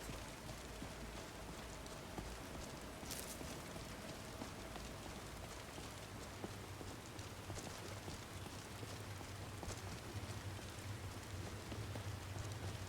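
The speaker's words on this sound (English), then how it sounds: "I am enjoying this lovely downpour." A heavy rain downpour in the video game Skyrim, a dense and even hiss of falling water that holds steady throughout, with no voices.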